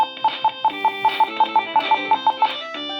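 A fast electronic melody of short, bright synth notes in a quick, even rhythm, with a few pitch changes, playing alone without speech: an electronic keyboard's built-in demo tune, sped up.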